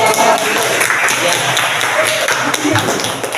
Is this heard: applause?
yes